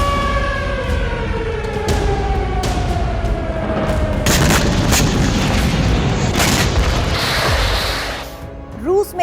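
Warning sirens for a nuclear attack alert wail with slow falling pitch sweeps, loud and sustained, joined midway by dense broadband rumbling and sharp bursts before fading at the end.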